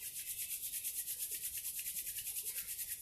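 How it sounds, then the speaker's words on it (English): Palms rubbed together forcefully and fast during a yoga session, a steady rhythmic hiss of skin friction, close and fairly quiet, with no talk over it. "And rub your palms forcefully in the heat."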